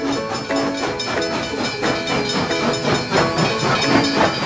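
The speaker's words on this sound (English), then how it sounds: "This is not a car, it's a train." A train rolls past at steady, moderate loudness for several seconds, its wheels clattering rhythmically over the rails with a few tonal whistle-like notes, and no voices.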